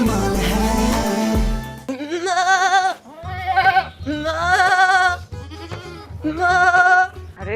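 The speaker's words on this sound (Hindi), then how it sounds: "वो बकरा मारिया को देखे, क्योंकि उस बकरे से बड़ी स्मेल आ रही है और इस तरह की आवाजें आ रही हैं।" A goat bleats repeatedly at close range in a series of loud, quavering, nasal cries separated by short gaps, with a burst of other noise at the start and a low drone running underneath.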